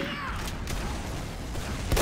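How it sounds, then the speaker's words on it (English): Team Fortress 2 gunfire rattles as a dense, continuous barrage of shots under the game's noise, with a sharper burst near the end and voices shouting nearby. "You guys are shooting the fucking wall!"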